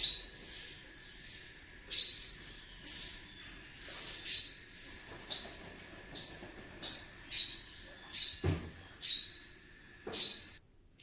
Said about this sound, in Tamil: வெளியில் இருந்த குருவி வந்து வீட்டுக்குள்ளேயே சுற்றி சுற்றி உட்காந்துட்டே இருக்குது